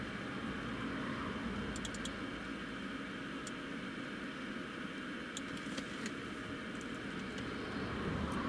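A Cessna Citation jet on approach to land at Newcastle International Airport during a storm gives a steady, distant engine roar and broadband rush, with a few faint ticks and clicks close by.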